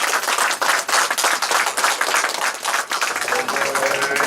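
A church congregation claps and applauds loudly and continuously, a dense wash of many hands with brief spoken voices mixed underneath.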